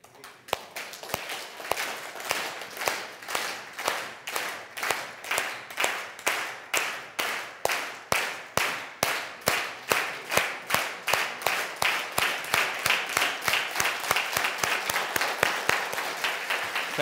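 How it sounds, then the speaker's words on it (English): An audience at a business product presentation claps in unison, sharp rhythmic hand claps at a steady pace that grow slightly louder and quicker toward the end, with no talk over them. "Can you clap? How will you clap?"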